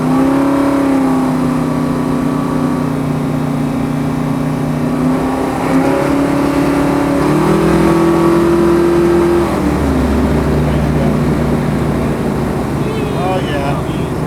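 A 1973 Plymouth Road Runner GTX muscle car cruising, its engine a steady, loud droning rumble that climbs and settles through gear changes, heard from inside with a faint voice now and then.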